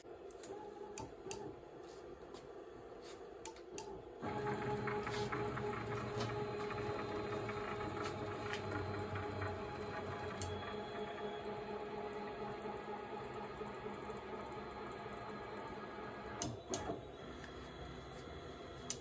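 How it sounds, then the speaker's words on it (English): A FOXAlien XE-Pro CNC machine with a linear rail upgrade homes its axes: quiet steady stepper-motor whine and hum with intermittent sharp clicks and ticks, fairly close and alone. "let's home the machine now"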